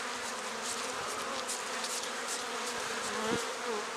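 Honey bees buzz as a close, continuous swarm while they are brushed off a hive frame during spring hive work. The hum is dense and steady, with a few brief brushing sweeps and no talking.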